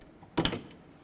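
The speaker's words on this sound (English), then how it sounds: "pull these lines out of this retainer right here" A transmission cooler line yanked free of its plastic retainer on a 2000–06 GM truck, giving one short, sharp plastic snap-and-scrape burst with quiet around it.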